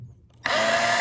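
Milwaukee 12-volt screw gun driving a screw into plywood: a brief quiet pause, then a loud, steady, high-pitched motor whine that runs close and continuous to the end, with no talk.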